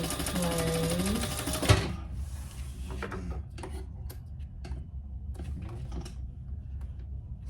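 A sewing machine bastes fabric in place while a retro-style sling is being made. A fast, even stitching buzz runs for about two seconds and stops with a thump, followed by quiet scattered clicks and handling noises.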